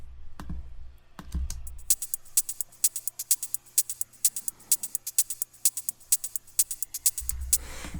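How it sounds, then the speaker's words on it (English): Layered hi-hat drum loop programmed in Logic Pro X's Ultrabeat for an EDM track, with a steady run of crisp, bright ticks over a low thumping kick at the start and end. "those hi-hats sound like this."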